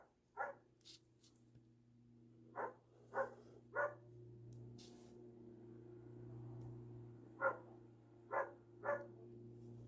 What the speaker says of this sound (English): When the dog hears stuff in this side of the garden, it's a neighbour's dog, it just starts going off like that.